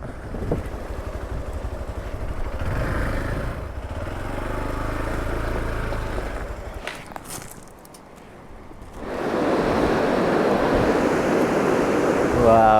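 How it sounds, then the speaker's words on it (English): A fast-flowing river in Spiti Valley rushes in a loud, steady roar of churning water, rising after a brief lull near the end, with wind buffeting the microphone and faint talk underneath. "this river flows pretty fast as well"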